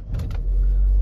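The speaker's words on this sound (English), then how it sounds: "car starts up" A Vauxhall Meriva engine cranks and starts, with a couple of short starter bursts at the opening before the motor settles into a steady, close, low idle.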